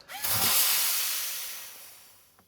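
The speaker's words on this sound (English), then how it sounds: "I'm just going to drill a small puncture hole in it" A drill bites into a pressurized shaving cream can, immediately releasing a loud, broad rush of escaping gas that starts strong and slowly tapers over about two seconds, with no talking.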